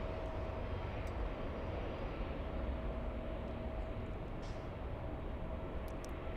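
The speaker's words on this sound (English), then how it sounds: "here comes the A350 1000 from Heathrow." An Airbus A350-1000 airliner arriving from Heathrow at LAX rumbles steadily in the distance, a constant broad roar of jet engines that holds at an even level throughout, with no voices.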